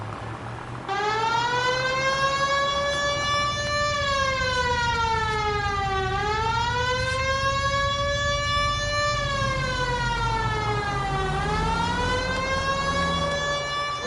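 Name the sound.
police car siren in video game LA Noire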